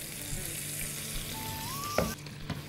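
Chopped chicken liver hitting a hot pan already holding sautéed gizzards, a steady close sizzle with a brief clatter and stir near the end.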